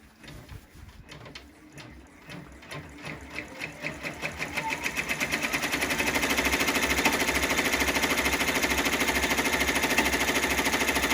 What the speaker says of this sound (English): we're going to press the unlock again and do the outside stitching